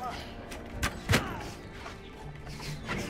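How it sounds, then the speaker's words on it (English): Catapults firing in the video game Mount and Blade 2, heard as a couple of heavy thuds and launch thumps over a low battle ambience, with a person talking faintly at times. "Can't stop the catapults from firing."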